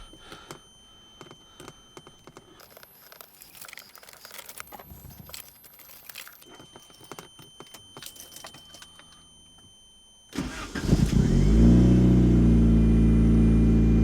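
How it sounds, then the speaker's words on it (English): A 1989–1994 Lotus Elan M100 engine cranks and catches after about ten seconds of quiet outdoor handling and rustling, then runs loud and steady close by. "and I'm gonna start a car."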